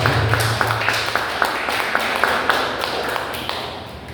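Church congregation clapping together at a small Portuguese-language worship service, a steady rhythmic beat of sharp claps about every quarter second, moderately near and even, with no talk over it.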